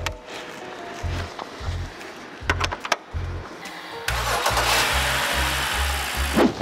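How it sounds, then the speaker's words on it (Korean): BMW F10 528i being jump-started on a flat battery: rapid starter cranking in short repeated bursts, then the engine catching and settling into a loud, steady run, heard up close with no talk. "시동은 걸리는데 배터리가 너무 방전이 되어 있는 상태라 배터리는 당연히 교환을 해야 되고 시동 걸리는 건 지금 확인했으니까"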